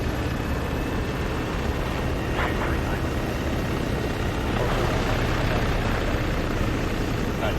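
A helicopter's dense, steady engine and rotor roar in Arma 3, loud and unbroken throughout, with faint radio-like voices briefly audible beneath it.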